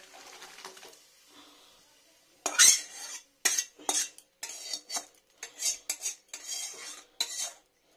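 Mung dal with radish is poured into a bowl, metal utensils clinking and scraping against the dish in a run of sharp, close knocks after a quiet start.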